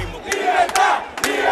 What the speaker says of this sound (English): Crowds demanding freedom, sick of oppression and shortages on basic goods.